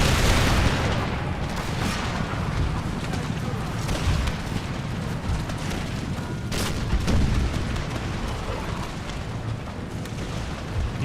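Artillery and cannon gunfire in the battle game Empire: Total War, Ottoman Empire campaign against a French-Spanish coalition: dense rumbling booms and sharp blasts repeating throughout, loud and continuous, with battlefield noise behind them.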